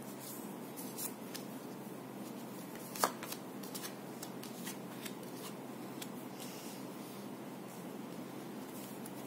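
Tarot cards being shuffled in a steady, soft riffling patter that runs throughout, close and moderately quiet, with one sharper snap partway through; no voices.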